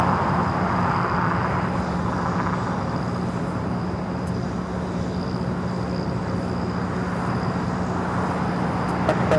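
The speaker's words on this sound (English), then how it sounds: "Next takeoff here on the south side is Breeze, flight 535 heading to Richmond and an A220-300." A Breeze Airbus A220-300 taking off at LAX, a steady broad jet engine roar with a low hum, heard at moderate distance and holding constant throughout.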